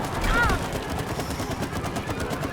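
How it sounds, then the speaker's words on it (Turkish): Video game gunfire in It Takes Two, enemy shots aimed at the player as a busy burst of cracks over dense low rumble and game effects, loudest early on and continuing throughout. "Vuruyorlar bunlar bana."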